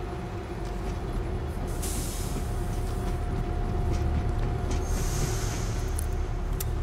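A train in the World War Z video game starts moving with a constant loud rumble and hissing, and faint metallic clanks come through over the seven seconds.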